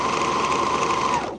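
A Bernina L890 sewing machine runs in a steady, close whir with a bright motor tone, stitching continuously for over a second before winding down and stopping.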